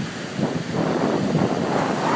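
Ocean waves and wind on a beach at sunset blend into a broad, loud wash of surf, with gusts buffeting the microphone throughout the short stretch.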